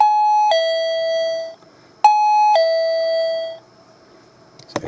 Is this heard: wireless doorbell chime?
yes